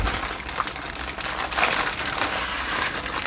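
Plastic packaging is pulled and crinkled off a Jelly Comb ultra slim wireless keyboard during unboxing, giving a steady, fairly close run of crackling and crushing with a louder burst midway, and no talking.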